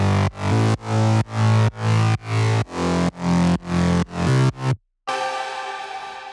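A self-made synth bass layer pulses in nine loud, evenly spaced notes, cuts to silence, then trails off into a fading sustained tone; no voices.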